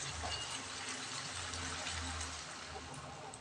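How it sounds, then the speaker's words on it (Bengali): Water poured into a cooking pot while making a meat curry with potatoes, a steady gushing splash heard close and unbroken for several seconds. "জলটা দিয়ে দিচ্ছি।"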